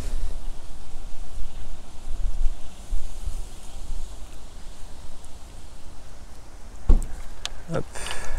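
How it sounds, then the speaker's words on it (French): Crosswind gusts rumble and rush against the microphone in uneven surges beside water while fishing with a telescopic pole, with a couple of sharp knocks near the end. "Pour traverser aussi les rafales de vent qu'on a."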